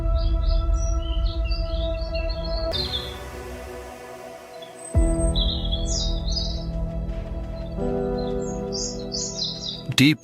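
Chirping calls of a rare bird in Bali Barat National Park, Indonesia, bright tweets repeating in short bursts over a steady musical score, with a brief gap midway.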